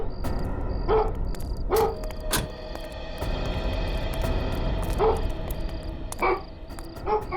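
A dog barks in short, repeated bursts at a moderate distance, spaced over several seconds, against a steady outdoor background hum.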